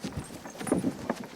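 A ridden horse's hooves clip-clop on a Victorian farm, a quick run of close, distinct steps.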